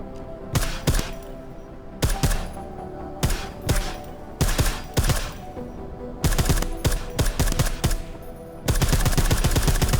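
Silenced weapon fire in the video game Deus Ex: Mankind Divided, coming in loud clustered bursts of sharp shots separated by brief pauses, ending in a denser sustained volley.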